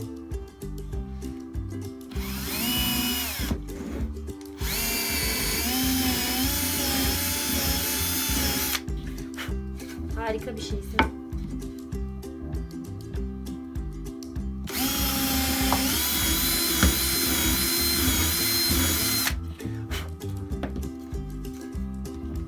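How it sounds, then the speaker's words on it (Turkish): A power drill whines loudly in long bursts separated by short pauses, drilling into a wooden board with a drill bit, with a brief spoken remark in between. "Bunu delelim ki matkap ucuyla."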